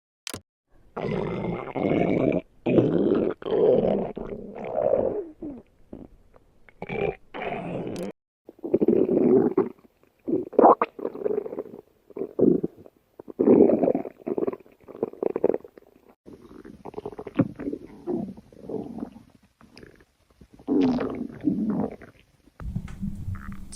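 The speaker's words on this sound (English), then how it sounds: "Stomach just moving." Stomach growling heard up close: irregular low gurgling rumbles and squelchy churns in bursts of varying length, separated by short silences, loud and continuous throughout.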